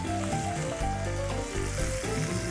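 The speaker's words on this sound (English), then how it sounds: "Give that another flip. Let those sear on that side." A steak sears in a cast iron pan, giving a steady high sizzle beneath louder background music.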